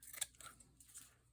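Scissors snipping through paper for junk journal pockets, a few quick faint cuts in a quiet room with a sharper snip near the start.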